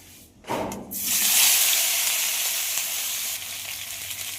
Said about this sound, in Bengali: এবার এতে কেটে রাখা কাঁকরোল আর আলু দিয়ে দেব।